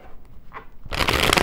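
Oracle cards being shuffled by hand, a quiet rustle and faint tap before a sudden burst of dense, crisp riffling that runs on steadily, close to the ear.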